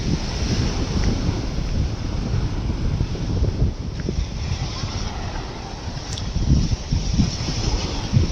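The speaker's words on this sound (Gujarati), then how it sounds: "હા, પવન કેવો આવે છે" Strong wind buffets the microphone on a seacoast, a constant loud rumbling roar blended with the wash of waves, continuous and unbroken throughout.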